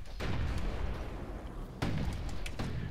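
Hand grenades exploding in the video game Bastion, two muffled booms with rumbling tails, moderately loud and a second or so apart.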